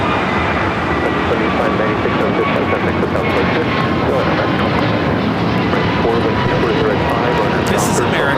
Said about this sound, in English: 2596 taking off to Charlotte on the A321neo.